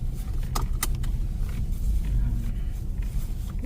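A car drives along a snowy road, heard from inside as a low, steady engine and road rumble with a few brief clicks and rattles near the start; no one speaks.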